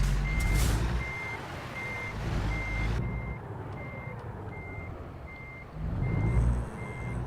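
Tractor-trailer backing up in American Truck Simulator, a steady series of evenly spaced reversing beeps over a low diesel engine rumble that rises and falls, with no talking.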